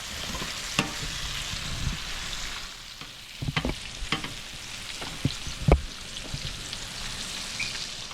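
Cauliflower pieces frying in oil, Italian-style, a continuous crackling sizzle up close with occasional sharper pops and spatters and a few stirring knocks, no talk.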